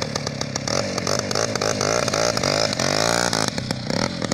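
A Voskhod motorcycle engine revs hard with a squeaking fault in the motor, a loud rapid buzzing two-stroke rattle rising and falling in pitch, close up and without speech.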